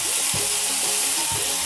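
Okra sizzles loudly in a hot pan for an Indian curry. There is a dense, continuous crackle and a couple of stirring scrapes, with no talking.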